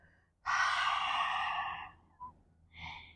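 A long, audible exhale during a full-body strength and stamina workout with spiral movements, one steady breath out lasting over a second, followed by a softer second breath, close and clear with no talk.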